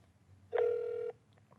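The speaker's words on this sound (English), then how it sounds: "Let's see what happens when I dial into the call center." A phone dialing a bank call center gives one steady electronic tone lasting about half a second, clear and close against a quiet background.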